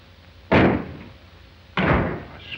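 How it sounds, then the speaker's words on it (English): Wooden door in an old Western setting thudding shut twice, two loud close bangs each followed by a short rattling decay, with no voices. "Close that door."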